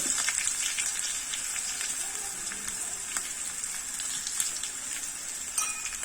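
Tempering of cumin, green chillies, curry leaves and asafoetida sizzling in hot oil, a steady, fairly soft crackling hiss with occasional small pops.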